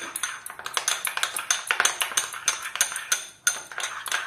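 Yogurt with salt and pepper whisked briskly in a bowl, a fast, steady run of light clinks against the sides, close and alone without talk.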